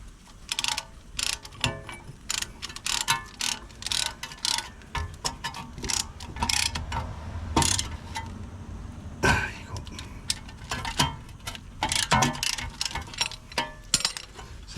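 A brake piston tool pushes back the caliper piston on a BMW 1 Series during a brake job, a string of close, sharp ratcheting clicks and mechanical ticks in irregular bursts.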